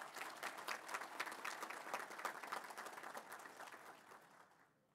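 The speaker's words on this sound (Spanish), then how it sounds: "para quien pido un fuerte aplauso" Faint, dense applause from a large audience at a swearing-in ceremony for retired generals, a steady wash of many hands that fades out toward the end.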